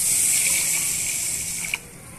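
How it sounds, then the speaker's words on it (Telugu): Water pouring into a bowl of basmati rice for washing, a steady bright rushing gush close by that cuts off sharply near the end, with no talk. "ఇప్పుడు మనం వాటర్ పోసుకొని శుభ్రంగా వాష్ చేసుకుందామండి."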